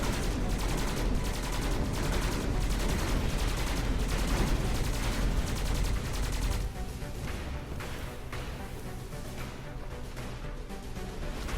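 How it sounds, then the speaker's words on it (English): Rapid machine gun fire in the video game Skyforge rattles as a dense, continuous burst, loud and close, easing slightly in the final seconds without any talk. "So we switch to machine gun mode"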